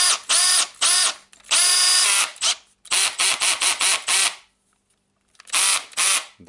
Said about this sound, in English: And now what is left for us is to test the drill.